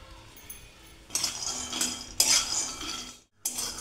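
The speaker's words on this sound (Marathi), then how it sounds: "कमी गॅसवर भाजून घ्यायचे शेंगदाणे" Peanuts being dry-roasted in a pan over low heat for nutritious laddoos, heard as a scraping metal-on-pan rattle and clinking that comes in near bursts with a brief pause, no voices.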